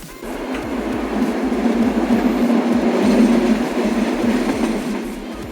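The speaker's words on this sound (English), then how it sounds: "As the train continued to chug along the Bernina Pass" Steady rumble of a train rolling along the Bernina Pass line in the Alps, with a regular clickety-clack of wheels over rail joints, continuous and close.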